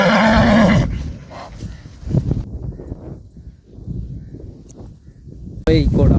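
A horse whinnies loudly in a long, wavering call at the start, then gives a brief second neigh at the end, with people talking close by in between.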